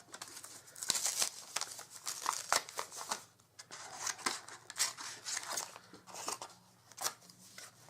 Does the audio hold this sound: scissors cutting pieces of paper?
yes